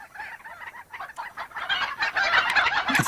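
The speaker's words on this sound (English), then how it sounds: "each one of these chickens actually has a sound, and it sounds like an ambience, like a chicken ambience" Chickens in a Godot-built island game cluck continuously as a looping ambience, several birds overlapping in a busy, moderately loud texture with a brief crow-like call near the end.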